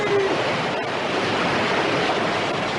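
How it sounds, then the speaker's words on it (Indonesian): Ocean waves surge in a steady, roaring wash of surf along a southern shore, loud and continuous with a windy hiss, used as an audio drama sound effect. "Ombak itu akan menggulung kalian"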